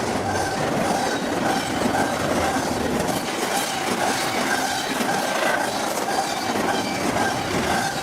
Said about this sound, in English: Container train. The giant delivery train.